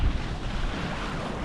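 Wind and sea wash rush steadily around a sailboat under full sail at speed on open ocean between Vanuatu and Australia, a dense, loud, unbroken roar with heavy wind buffeting on the microphone.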